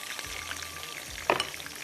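Chicken pieces fry in hot oil for black pepper chicken, giving a continuous soft crackling sizzle with a sharper spatter or clink near the end.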